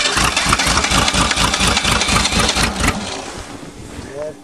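A 1986 Ford Ranger engine cold-starts in snow with a loud rhythmic cranking that catches and settles into a rough idle, then fades lower near the end.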